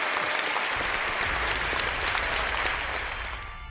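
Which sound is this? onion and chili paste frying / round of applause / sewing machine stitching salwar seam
round of applause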